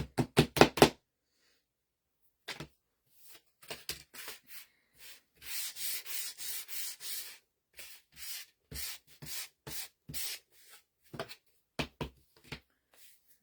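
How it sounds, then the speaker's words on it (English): Light sanding on wood: short scraping strokes, some in quick bursts and others in longer sustained passes, close and clear, with no voices. "just give it a light sanding so it's nice and smooth"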